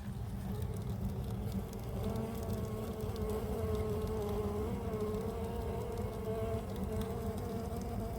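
A honeybee colony recently moved to an apiary hums with a dense, continuous buzz from many bees, steady and fairly close, with individual wingbeats weaving over the constant drone.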